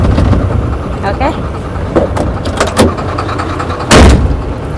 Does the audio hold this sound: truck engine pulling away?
yes